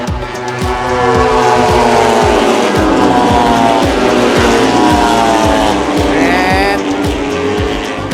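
MotoGP motorcycles on track during the second practice session, their high-revving racing engines roaring loud and continuous, with pitch rising and falling as the bikes pass through gear changes.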